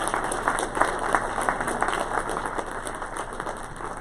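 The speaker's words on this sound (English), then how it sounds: "can we get a round of applause for our panelists this evening?" Audience applause for the panelists at an evening campus public safety and alcohol event, a steady crowd of many hands clapping continuously at moderate distance, with no talk over it.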